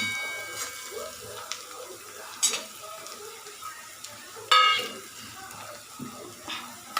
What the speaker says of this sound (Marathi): कांदा लालसर भाजून घेऊया